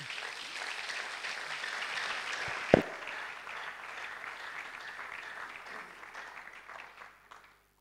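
A church congregation at a wedding blessing breaks into sustained applause, a dense wash of clapping with one sharp knock partway through, fading out toward the end.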